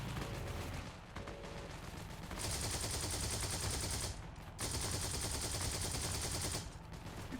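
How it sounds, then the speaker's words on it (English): Bursts of automatic gunfire from a vehicle-mounted gun in the video game Heroes & Generals, two sustained volleys of a few seconds each over a steady engine rumble, loud and close with no talk. "we are going to take cover while shooting our gun."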